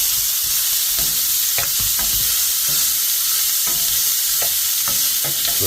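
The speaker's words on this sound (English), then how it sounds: "heat up a frying pan with some avocado oil and give it a nice fry" Bite-sized pieces fry in avocado oil in a pan for gumbo, a steady close sizzle broken by several scraping stirs at irregular intervals, with no talking.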